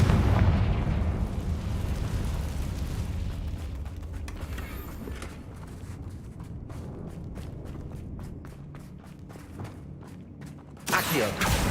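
Magical Confringo blast in Hogwarts Legacy, a heavy low rumbling boom that rolls on for several seconds under crackling debris and rapid pops, then a sharp fresh burst near the end.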